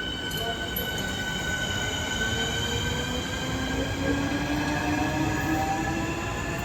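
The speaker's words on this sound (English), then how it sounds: "Alright, there goes that train." A London DLR light metro train rolls past close by, a steady rumble with high whining tones and squealing wheels throughout.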